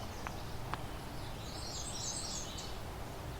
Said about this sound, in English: We're hearing a lot of birdsong right now.